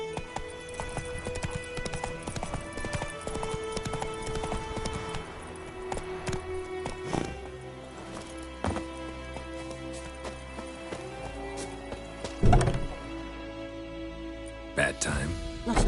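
Roach gallops in The Witcher III: Wild Hunt, her rapid hoofbeats drumming close and steady for several seconds before slowing, with a few sharper thuds and scattered game ambience near the end.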